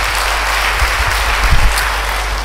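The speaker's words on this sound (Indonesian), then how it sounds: "Beri tepuk tangan bagi dia." Church congregation breaking into applause during a sermon, a broad steady wash of clapping with low rumble underneath, continuous for a couple of seconds and fairly loud.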